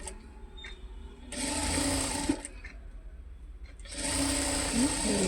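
A sewing machine runs in two bursts while stitching a four-cut handbag in a home tailoring setup, a steady mechanical whir with pauses between runs and a voice speaking nearby.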